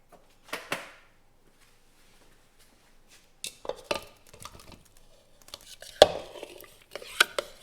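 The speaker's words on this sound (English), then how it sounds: "Now you add the potatoes." Potatoes tumble into a pan in a few separate bursts of clattering knocks and scrapes, close and sharp, with quiet gaps between them.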